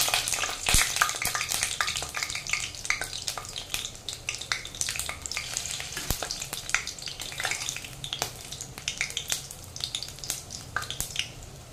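Bengali lentil fritters (bora) fry in hot oil in a kadai, giving a steady dense sizzle and crackle with scattered sharp pops, close and fairly loud throughout, with no voices.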